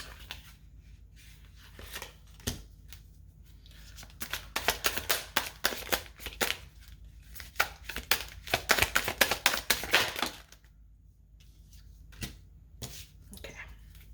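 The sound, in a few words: shuffling tarot cards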